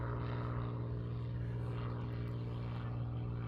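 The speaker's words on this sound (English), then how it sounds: "the American Air Power Museum Warbirds, flying at the Jones Beach Air Show" Warbird propeller aircraft performing at the Jones Beach Air Show on New York's coast, a steady droning engine hum held at constant loudness throughout, with no voices over it.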